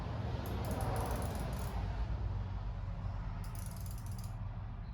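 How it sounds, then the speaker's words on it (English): Fine-tooth flex-head ratchet clicking in two quick bursts of rapid ticks, close and crisp over a low steady background hum. "With the weight of the ratchet, it still falls almost all the way."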